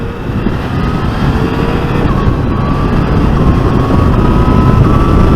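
A 2018 Yamaha MT-09 motorcycle riding hard with quick-shifter upshifts, a loud rough engine roar mixed with heavy wind buffeting, the engine note stepping up through gears.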